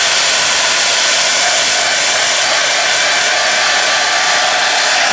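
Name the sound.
hair dryer blowing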